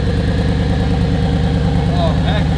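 Porsche Cayenne Turbo S with the Porsche Sport exhaust valve open, its engine rumbling loud and close in a steady, pulsing idle-like throb, with a brief higher rev or voice-like flutter near the end.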